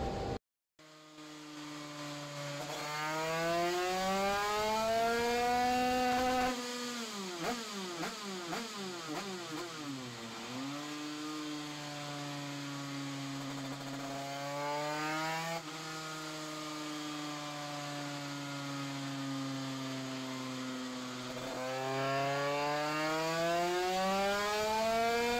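A Derbi 100cc moped engine runs steadily after rich idle-jet tuning, a close, loud two-stroke drone whose pitch rises and dips through several revs, with no talking.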